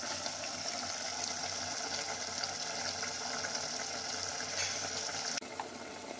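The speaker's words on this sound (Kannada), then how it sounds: "ಕುದೀತಾ ಇದೆ, ಪಳ ಪಳ ಪಳ ಪಳ ಅಂತ ಕುದೀತಾ ಇದೆ" Chicken curry boils in a pot, giving a steady, close, rushing bubble that holds evenly throughout, with no voices.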